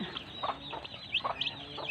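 A hen clucks softly in short, repeated bursts at close range, with faint chirps in the background.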